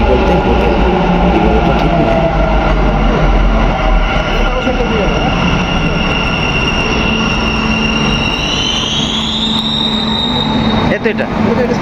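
A metro train rumbles loudly and steadily through Nallurhalli station in Bengaluru, its pitch rising into a whine near the end as it moves, with voices mixed into the noise.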